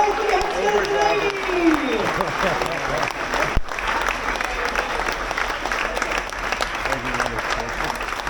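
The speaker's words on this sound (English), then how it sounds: "put your hands together for the Navy" Large crowd at a hero salute event at Islander Margaritaville applauding the Navy, sustained loud clapping and cheering mixed with voices, with a sharp thump partway through as the ovation keeps going.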